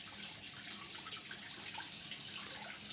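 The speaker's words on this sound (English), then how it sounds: "then I have to run the tap so that it warms up a bit" A household tap runs steadily with a soft, continuous hiss of flowing water, faint and unbroken, with no voices over it.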